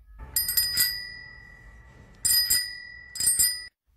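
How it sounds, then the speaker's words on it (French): A bicycle bell rings three times in quick bright double-dings, each burst trailing into a sustained metallic ring, loud and close with quiet gaps between. "Ma sonnette était cassée, alors on en a racheté une nouvelle."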